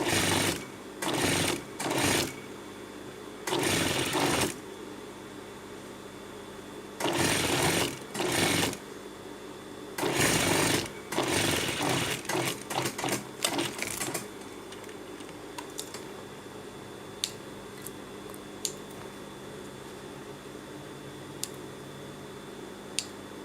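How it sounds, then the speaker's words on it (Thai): Sewing machine stitching the waistband edge of a garment in short bursts, loud rapid whirring runs separated by quieter pauses, then fading to faint ticks and light handling noises. "นี่ก็เย็บขอบนะคะ เย็บขอบให้เรียบร้อย"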